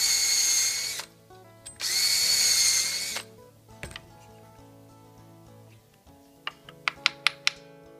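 A power drill with a number 28 bit bores holes through steel pieces for a safe assembly: two loud, steady whining runs of about a second each, then scattered clicks and a few sharp metallic taps near the end.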